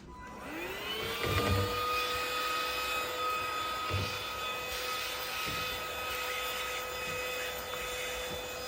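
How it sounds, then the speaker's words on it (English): A vacuum cleaner runs steadily and close by, its motor whine holding a high tonal pitch after spinning up in the first second, with occasional bumps as it passes over the floor picking up dog hair. "This vacuum is good."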